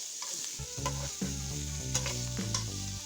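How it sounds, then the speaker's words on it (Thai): Pork belly stir-fried in a pan with curry paste: a steady close sizzle broken by repeated scraping stirs of the spatula, each stroke landing a little under a second apart. "เสร็จแล้วจะใส่หมูลงไป หมูประมาณสามขีด ผัด"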